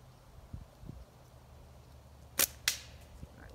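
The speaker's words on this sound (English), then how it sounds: "So we're gonna shoot for the can." A slingshot shot strikes a can, heard as two sharp, close cracks in quick succession with a brief faint tick after, over quiet outdoor background.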